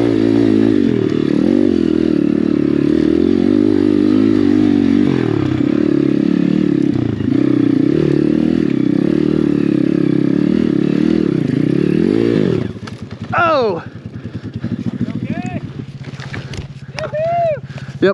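Apollo RFZ Chinese dirt bike climbing a hill, its engine droning loud and steady, then revving and sputtering with clattering and scraping near the end.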